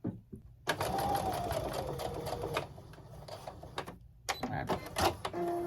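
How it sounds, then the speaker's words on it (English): A sewing machine stitches in two bursts, a long steady run of rapid needle chatter, a brief stop, then a shorter run, sewing to the middle of a Y-seam, close and fairly loud. "I like to just sew right to the middle, hopefully you can see that, right to the middle of the seam right here"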